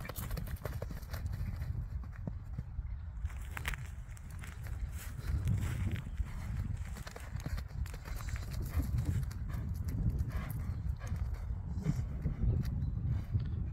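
Horse hooves clip-clopping at a calm walk on ground, a steady, moderately near rhythm over a low background hum, with no talking over them.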